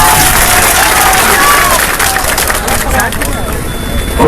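Audience applause and crowd noise at an election rally in Barbatta bazaar, Kochadhaman, with broad clapping and murmuring voices filling the space throughout, steady and dense without a clear ending.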